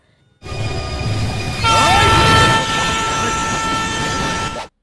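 A train rumbles past close by, a steady heavy roar of wheels on rails with a sustained horn-like tone sounding partway through.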